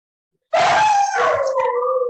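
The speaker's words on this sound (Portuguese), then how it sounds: "Desculpa o barulho dos cachorros." A dog breaks the silence with a single drawn-out howl, a wavering, wailing tone that rises and then slowly falls, heard close and loud with no talking over it.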